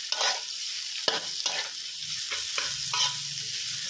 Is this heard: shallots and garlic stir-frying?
yes